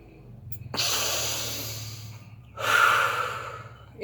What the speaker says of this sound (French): j'inspire à plein poumon